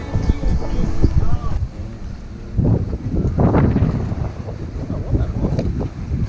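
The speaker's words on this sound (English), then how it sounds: "blowing a gale" Strong gale-force wind gusts buffet the microphone on a boat by the sea, a loud rushing roar that swells and eases, with a voice speaking briefly beneath it.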